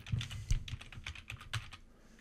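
Typing on a computer keyboard while filling in an invoice in accounting software, a quick run of close, crisp key clicks and clacks, irregular in rhythm and alone without talk.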